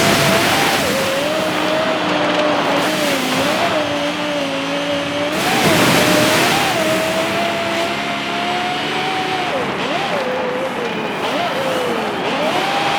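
A Toyota Land Cruiser AT37 in Forza Horizon 5 drives hard, its engine droning steadily with pitch rising and dipping through gear shifts and throttle changes, loud and continuous, with light tire noise.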